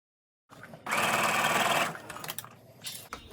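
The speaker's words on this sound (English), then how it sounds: "So now I'm going to sew over here." A sewing machine stitches pixie bonnet fabric in one short, close burst of rapid mechanical whirring, followed by light handling clicks.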